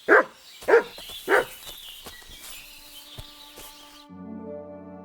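Three loud, close dog barks in quick succession open the scene in Kingdom Come Deliverance 2 during a wolf encounter, then give way to quieter clicks, birdsong and a droning game tone.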